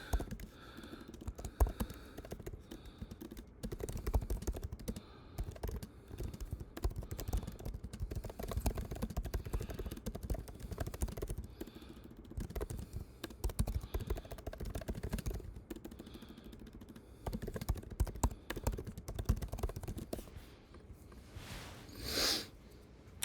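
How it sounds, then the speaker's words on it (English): Computer keyboard typing runs in irregular bursts of light clicks through a basketball film review session, fairly close and steady, with occasional snorting breaths. "I'm just going to type it"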